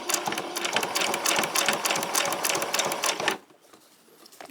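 A sewing machine runs steadily for a few seconds, stitching bias binding onto fabric for a white summer top, then stops into quiet.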